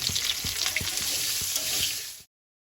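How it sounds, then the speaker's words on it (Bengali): Potatoes frying in hot oil during Bengali New Year home cooking, a steady close hiss with periodic soft scraping stirs, stopping abruptly near the end with no talk. "তেলটা গরম হয়েছে আলুগুলো একটু ভেজে নেব"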